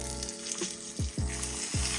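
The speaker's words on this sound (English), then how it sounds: "Now I'm gonna go ahead and lay my steak down." A dry-aged steak is laid into a hot cast iron pan with avocado oil and rendered fat, and a loud, continuous close sizzle crackles throughout.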